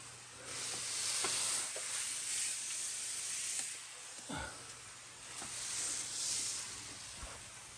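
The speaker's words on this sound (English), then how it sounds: "I just wanted to show you that the pump sprayer is very effective." A hand pump sprayer mists water onto a popcorn-textured ceiling to soften it for removal, a steady broad hiss running through the whole stretch with faint uneven pulses and a low electrical hum beneath, no voices.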